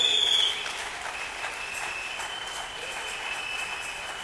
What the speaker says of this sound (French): On se lève et on donne une forte main d'acclamation.